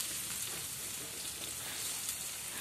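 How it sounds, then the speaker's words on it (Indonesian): Spice paste stir-fried in a pan, a steady soft sizzle and crackle that is fairly quiet and continuous throughout, without speech. "Nah ini aku tumis ya bunda bumbunya dulu sampai harum seperti itu."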